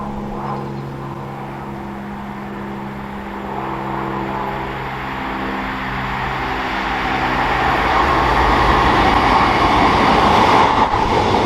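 A train rumbles through a railway station on the Poacher Line, a steady droning roll that grows louder and rougher toward the end as the carriages pass close by.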